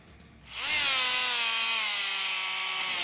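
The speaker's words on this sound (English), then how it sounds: "Now, if you're asking yourself if this can sand as well, yes, it can." A Dremel Velocity 7.0 amp corded oscillating tool with a sanding attachment spins up sharply and holds a loud, steady high-pitched buzzing whine, close and alone, with a slight drop in pitch as it settles.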